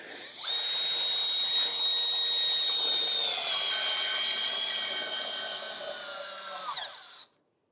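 A Milwaukee multi-function cordless screwdriver runs in mode 1, a loud high-pitched electric whine that spins up, holds steady for about six seconds with slight pitch drift, then winds down and stops abruptly.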